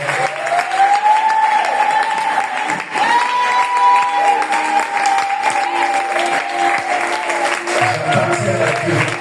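A worship congregation applauds and acclaims steadily under a sustained sung or shouted voice, dense clapping with crowd voices continuing loudly throughout.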